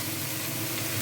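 Chopped tomatoes hit a hot pan for masala dosa filling, producing a loud, dense, steady sizzle over a very short moment.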